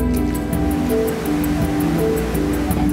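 The Sangkuriang River in Sentul, Bogor, rushes in a steady, loud wash of flowing water, with no voices over it.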